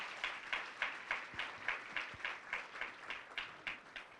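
At a 2017 employee gathering, an audience gives a round of applause, heard as soft, fairly distant clapping that pulses in a regular rhythm for several seconds.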